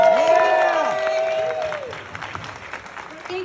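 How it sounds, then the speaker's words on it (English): Applause and cheering from a crowd at a Crystal Meth Anonymous meeting, steady clapping with excited voices and whoops over it at first, then sparser claps trailing off. "Everybody give Angela Joy a big round of applause"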